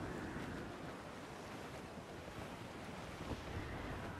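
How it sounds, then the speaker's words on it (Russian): Wind and ocean waves at sea in Assassin's Creed IV Black Flag, a constant faint broadband rush of surf and gusting wind with no clear breaks, heard alone without speech. "Ветер крепчает! Ветер!"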